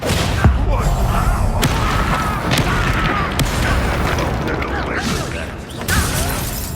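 A Confringo blasting spell explodes in Hogwarts Legacy amid dense combat noise, with several heavy booms and thuds over a continuous rumbling, clattering background that stays loud throughout.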